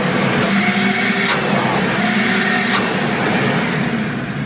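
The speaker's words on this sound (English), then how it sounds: "And over here, that's where the vacuum part happens." A Ridgid WD4070 wet/dry vacuum runs steadily with a loud, continuous motor whine and rushing airflow, with two faint brief clicks and no talk.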